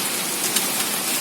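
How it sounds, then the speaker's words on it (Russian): Hail falls on a vineyard during a storm, a dense, steady hiss of countless small impacts with no voices. "Ну что, опять град херячит."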